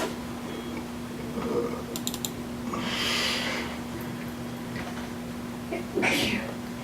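A sneeze in a town finance committee meeting room, a brief burst partway through against a steady room hum, with a second similar burst later.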